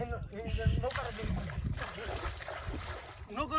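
A small boat moves on open water during fishing, with steady broadband wash and wind noise running throughout, while several people talk and call out loudly over it.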